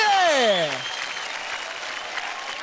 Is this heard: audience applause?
yes